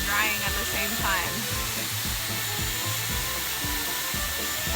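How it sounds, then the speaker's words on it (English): A Dyson Airwrap blowing air to dry and style hair, a steady close whooshing hum with rhythmic rubbing and brushing of hair against the tool. "Doing this motion, it dries the hair as well."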